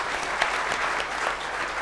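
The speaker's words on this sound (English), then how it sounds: "Give them a round of applause as well." An audience at an evening panel event applauds in a steady, dense patter of many hands, moderately loud and continuous for the whole stretch.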